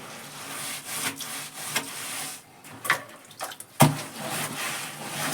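Split firewood shifted around a kitchen, a run of close wooden knocks, scrapes and rubbing thuds, irregular in rhythm, with one sharp clack near the end and no talk.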